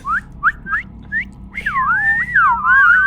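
A person whistles short rising chirps, then breaks into a longer wavering, sliding melody, loud and close with no talking.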